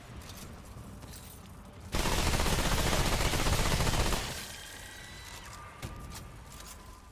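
Rapid electric-round gunfire from a fast-firing gun in the shooter game Remnant 2, one loud sustained burst of about two seconds over quieter game ambience, with no talk.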